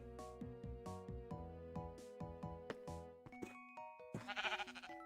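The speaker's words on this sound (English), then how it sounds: "We have Gilbert the sheep" Sheep in a video game bleating repeatedly, roughly eight wavering cries in steady succession, followed by a brief chime-like burst at the end.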